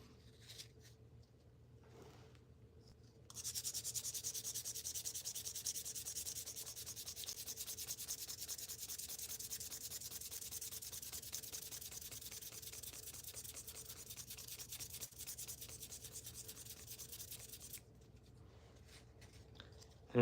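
Wood being hand-sanded with 400 grit sandpaper, a steady close scratchy rubbing that runs continuously for about fifteen seconds after a quieter start, with no talking.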